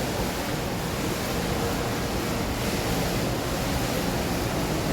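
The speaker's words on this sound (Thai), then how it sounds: "ตอนนี้ก็จะเป็นน้ำตกนะท่านผู้ชมน้ำตกกลางห้าง" An indoor waterfall in the ICONSIAM shopping mall in Thailand rushes in a steady, even hiss, like a waterfall heard from nearby, unchanging throughout with no voices.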